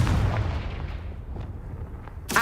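Confringo fire spell blast in Hogwarts Legacy, a loud booming burst at the start that rumbles and fades, followed by a sharp crack near the end.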